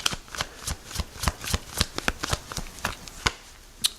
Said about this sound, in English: We're still shuffling.